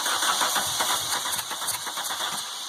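A VW Golf GTI MK2 engine fitted with motorcycle carburetors cranks steadily, a continuous mechanical churning with faint rattle over about three seconds, heard up close without talk.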